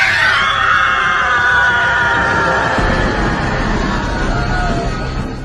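A loud, sustained human scream in a horror story, shrill and piercing at the start, then trailing off over several seconds into a lower, fading cry.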